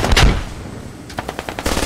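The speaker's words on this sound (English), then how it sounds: "Another shot." Gunfire in the military shooter Squad during a fight around a tracked tank: a loud close shot opens, then after a pause a string of sharper rhythmic automatic bursts follows, with no talk.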